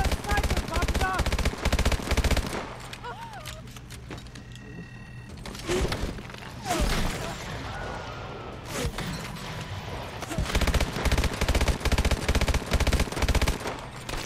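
Sustained automatic suppressing fire in Call of Duty: Advanced Warfare, with dense rattling bursts at the start and end and a quieter gap of scattered shots and combat noise between them, with brief talk.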